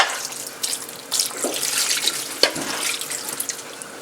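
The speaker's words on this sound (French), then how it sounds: "J'ajoute l'eau." Water pours from a tap into a cooking pot while making lamb biryani, a steady splashing hiss with a few sharper splashes and drips, nearby and with no one talking.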